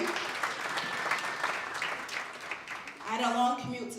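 An audience at a hall of fame induction ceremony breaks into sustained applause and cheering, a dense wash of clapping, with a voice cutting in near the end.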